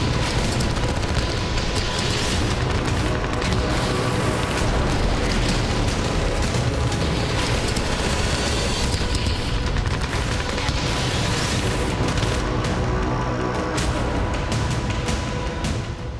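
Powerful blasts from wartime combat in the Russia-Ukraine conflict, with dense, continuous rumbling booms and crackling bursts that stay loud throughout and overlap without pause.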